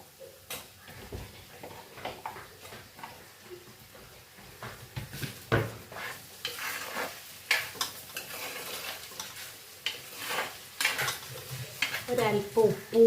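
Drumsticks (moringa pods) sautéed in a pan while cooking a Kerala theeyal curry, with steady stirring scrapes, light sizzling and irregular clinks of a spoon against the pan, close and moderately loud.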